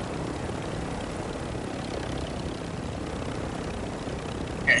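An airstrike aircraft roars overhead in a war video game, a steady, dense engine drone throughout that swells briefly louder at the very end.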